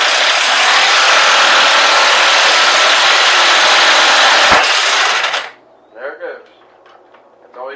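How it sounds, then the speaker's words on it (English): An impact wrench on a Briggs and Stratton Power Built 12.5 HP flathead engine removes the flywheel bolt: a loud, sustained close rattle lasting about five seconds, cutting off sharply, followed by brief quiet clatter. "always use an impact wrench"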